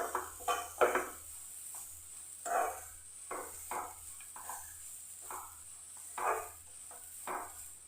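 Grated coconut filling stirred and frying in ghee over a low flame, with soft sizzling and intermittent scraping strokes of a spoon against the pan, close and fairly quiet.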